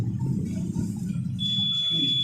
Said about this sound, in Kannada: ಇದು ಬೀಪ್ ಸೌಂಡ್ ಬಂದಮೇಲೆ ಆಫ್ ಆಗುತ್ತೆ